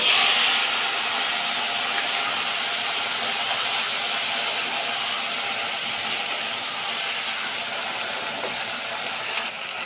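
Vegetables tossed into hot fish oil seasoned with black cumin in a home kitchen, giving a loud burst of sizzling that settles into a steady, even hiss, close up with no talk.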